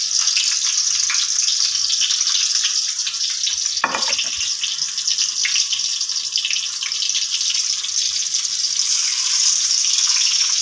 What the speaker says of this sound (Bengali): এভাবে সবগുলো মাছ আমি তেলে ভেজে নেব